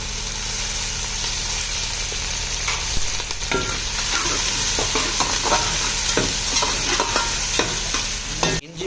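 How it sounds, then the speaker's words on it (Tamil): Onions and curry leaves frying in sesame oil in a pan, a loud, constant sizzle broken by scattered scraping clicks of stirring, close up with no speech. "இப்போ எண்ணெய் நல்லா காஞ்சிடுச்சுங்க இப்போ நான் சோம்பு போட போகிறேன்"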